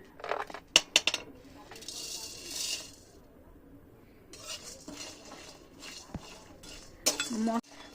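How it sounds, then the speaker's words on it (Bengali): Metal utensil scrapes and clinks against a dry pan while roasting spices, in irregular bursts, with quieter pauses between the stirring strokes. "মশলাগুলো ভালো করে টেলে নেবে শুকনো খোলায়"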